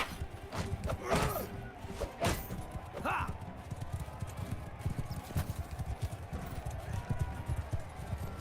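Horses' hooves clip-clop steadily in a video game, with several sharp thuds and hoof strikes standing out over a continuous patter of hoofbeats while a player's voice talks over the action.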